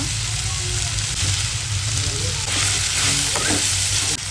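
Tomatoes frying in a pan with onions and ginger garlic paste, with loud close sizzling and a few scraping stirs of a spoon against the pan, without any talking.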